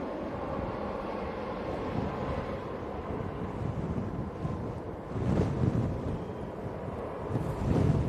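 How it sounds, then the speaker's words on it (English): Wind at Manchester Airport buffets the microphone in a steady, rough rush, with a few louder gusts swelling partway through. "Oh, that wind is blowy."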